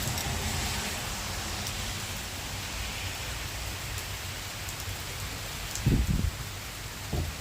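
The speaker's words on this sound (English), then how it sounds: "It has been a while since I got some good rain." Steady rain falls during a tropical storm on a back road, a dense even hiss of drops that runs unbroken throughout, with a couple of low thumps near the end.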